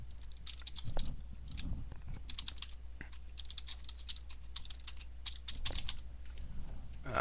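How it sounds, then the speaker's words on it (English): A random sentence typed on a computer keyboard while making an intro in Pinnacle Studio 12, a dense, quick patter of close keystrokes running almost continuously with brief pauses, no voices. "let's type a random sentence."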